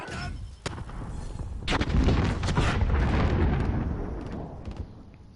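Grenade blast and gunfire in a PS4 shooter game, a sharp crack then a long rumbling boom with dense overlapping shots and explosions, loud and close, no talk.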